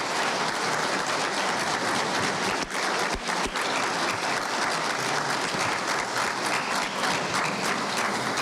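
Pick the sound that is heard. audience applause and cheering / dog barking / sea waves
audience applause and cheering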